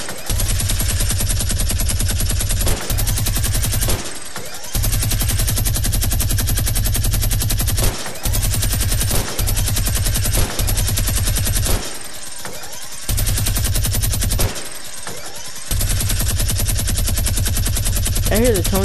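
Video game machine gun fire in long rapid bursts with short gaps between them, loud and continuous over most of the stretch, with faint talk underneath.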